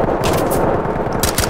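A loud, dense burst of rapid automatic gunfire in the tactical shooter game Ready or Not, set at a gas station, with continuous close shots rattling throughout and no talk over it.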